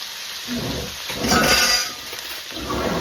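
Greens frying in a pan are stirred, giving a busy, crackling sizzle with scraping and a few light clinks of utensil on pan, fairly close and steady, with no talk.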